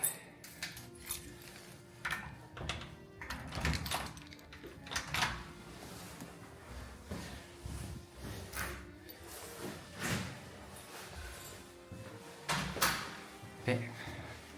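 Key turning in the lock of a Paris apartment's inner door, followed by the door being opened, heard as a series of close metallic clicks, clacks and knocks spread across the stretch, with a person talking throughout.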